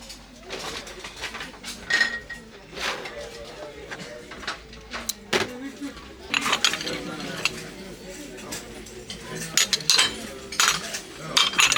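Vintage china dishes clink and knock as they are handled in a Goodwill thrift store, with scattered bright clatters throughout amid background chatter and store noise.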